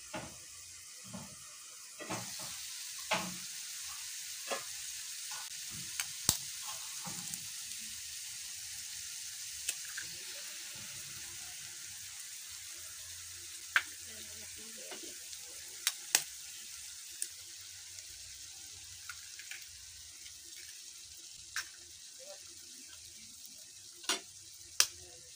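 Eggs frying in a pan make a steady, soft sizzle for a long stretch, broken by scattered small pops and light clicks of utensils, with no talking.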